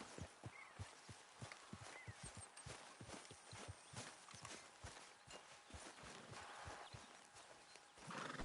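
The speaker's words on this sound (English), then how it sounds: "get that horse out of here" Horse hooves clip-clopping at a steady walking rhythm in Red Dead Redemption 2, close and continuous over a low outdoor ambience, with no talk over them.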